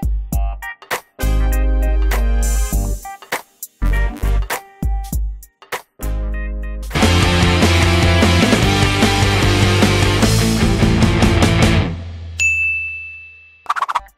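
A notification bell rings with a clear, bright ding near the end, after a loud stretch of upbeat music with sharp rhythmic hits.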